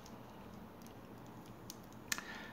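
A SOLID 16-in-1 multi-tool blade folds shut after its safety lock is pressed, giving a few faint light clicks and then one sharp metallic snap near the end, close by, with no talking.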